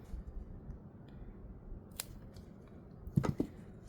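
Scissors snip geranium cuttings, giving a few faint, short clicks near the end against quiet background hiss.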